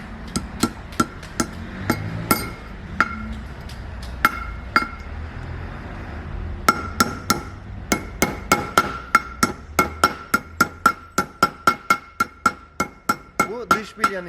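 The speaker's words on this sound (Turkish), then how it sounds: "Diğer çaktığımız iç bilye yatağıydı." Sharp metallic hammer strikes ring out as a car wheel bearing is driven into its seat, first spaced irregularly, then a fast steady run of blows growing louder, with a faint voice underneath.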